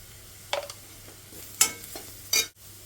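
Onions with turmeric are stirred in a frying pan: three distinct scraping strokes of a spoon across the pan over a faint, steady sizzle, close by and with no talking.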